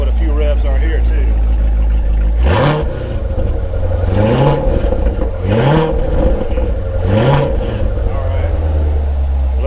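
A Corvette C7 Grand Sport V8 with an AFE Momentum cold air intake idling with a deep rumble, then blipped four times in a row, each rev rising sharply and dropping back to a loud, close idle.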